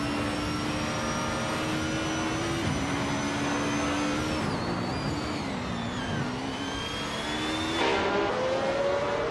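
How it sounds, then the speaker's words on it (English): Engine of a 1967 Matra racing car in a racing game, a continuous loud whine that rises and falls with revs, dropping at several shifts and surging again toward the end. "Maya is driving a 1967 Matra M7 to S7."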